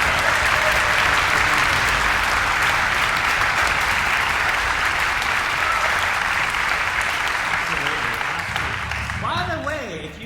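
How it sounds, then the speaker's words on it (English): An audience applauds the board of directors with a dense, sustained round of clapping that holds steady for a long stretch and then tapers off as a voice starts speaking at the end. "Can we have a round of applause for the board of directors, please?"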